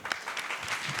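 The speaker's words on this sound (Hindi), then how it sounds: "तालियां बजाओ।" Listeners at a Bhagavad Gita study gathering clap briefly, a short burst of loose, uneven hand claps at moderate level filling about a second.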